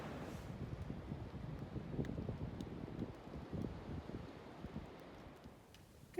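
Steady outdoor wind along the Appalachian Trail on a freezing night, a broad continuous rush buffeting the microphone at moderate level with no voices, fading slightly before a brief bump at the very end.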